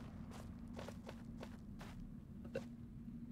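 A Minecraft character walks in a multiworld randomizer, with about eight or nine evenly spaced footsteps over a constant low drone, moderately close and with no voices.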